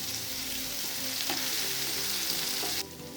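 Soaked raw plantain pieces with curry leaves and fennel seeds sizzle steadily in a hot oiled pan, a continuous close frying hiss with a couple of soft stirring knocks before the sound drops off abruptly.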